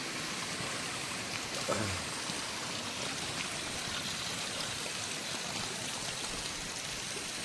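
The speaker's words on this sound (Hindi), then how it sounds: "यहाँ पानी हरदम गिरता रहता है" Water flows and falls constantly beside a mountain trail to Rudranath, a dense, even hiss of rushing stream that fills the whole stretch without a break.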